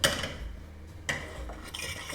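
A pot set down on a stove while cooking gado gado, with two sharp metallic clanks about a second apart and lighter clinks of utensils between them, close and moderately loud.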